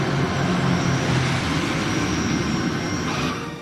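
Passenger airliner landing on runway 02 at Kathmandu, a steady loud engine roar and broadband rumble that holds for several seconds before easing off slightly.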